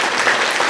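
A church congregation applauds newcomers introduced during a Sunday service, a brief, loud burst of many hands clapping at once, with no voices over it.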